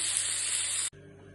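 Octopus and boiled potatoes sautéing in a pan give off a loud, steady, hissing sizzle that cuts off abruptly near the end, leaving a faint background.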